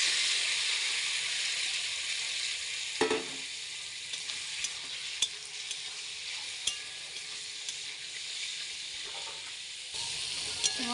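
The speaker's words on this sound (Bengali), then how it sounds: "আলু ভাজার তেলেই চিংড়ি মাছগুলো ভেজে নেব" Prawns fry in oil left over from frying potatoes, a close, continuous hissing sizzle with sharp pops and spatters and a few stirring scrapes, no one speaking.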